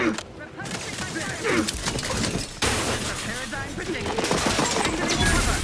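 Rapid bursts of gunfire from The Outer Worlds 2 video game crackle almost without pause, loud and close, layered with game effects, while voices speak over the fighting.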